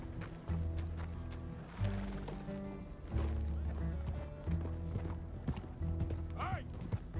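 Horse hooves clip-clop steadily in Red Dead Redemption 2, a moderately loud rhythmic trot mixed with game music and ambient sound, with a player talking briefly.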